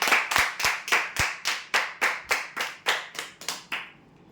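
A crowd claps in unison for a lucky draw prize winner, about fourteen sharp, evenly spaced claps in a steady rhythm that then stop.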